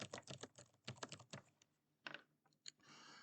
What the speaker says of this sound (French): je tape mon texte